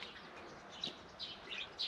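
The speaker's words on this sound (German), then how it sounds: "Weil da schwirrt es, da sind die Vögel drin." Birds in an aviary at a campsite in the Altmühltal give faint, scattered chirps and a few brief wing flutters over a steady outdoor background.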